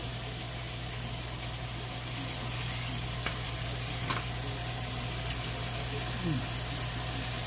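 Chopped beef carne picada sizzles in a pan over high heat, a steady, dense hiss that runs the whole time with a low hum beneath and a few faint clinks and scrapes.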